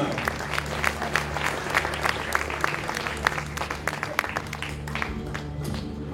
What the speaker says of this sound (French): On les applaudit bien fort, merci mesdemoiselles.